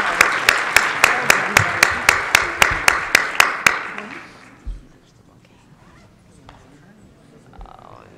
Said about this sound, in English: Let's give the panelists a really big round of applause